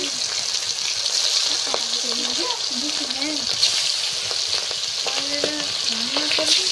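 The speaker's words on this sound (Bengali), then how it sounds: "এবার কিন্তু মাছটা আমি আস্তে আস্তে দিয়ে ভেজে নেব" Fish fries in hot oil with a steady close sizzle and faint spatter throughout, while people talk in the background.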